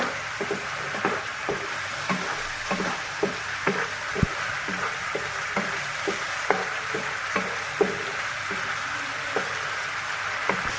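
Onion frying in a pan for a mustard hilsa dish, heard as an even, close hiss of oil punctuated by light, regular taps roughly every half second; no one speaks.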